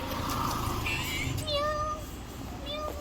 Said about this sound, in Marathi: किती गोड माऊ आहे बघा